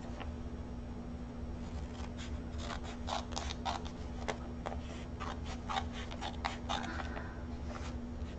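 Sewing scissors snipping paper up close, a series of short crisp cuts in irregular bursts over a steady low background hum.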